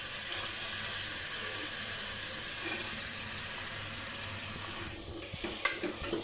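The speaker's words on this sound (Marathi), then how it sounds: "डाळीलाही थोडं परतायचं आहे।" Soaked chana dal sautéing in hot oil makes a steady, close, bright sizzle, fairly even throughout, with a few clinks and scraping stirs near the end.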